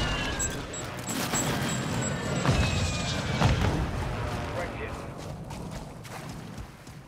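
Airstrike explosions in Call of Duty Warzone 2 Plunder rumble and crash as a string of heavy booms over a constant battle roar, with players talking over the blasts.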